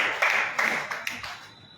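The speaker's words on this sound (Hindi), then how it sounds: "हालेलुया, बजाओ ताली यीशु के नाम।" A church congregation claps hands together in worship, several bursts of applause-like clapping in quick succession, fairly close and fading out toward the end.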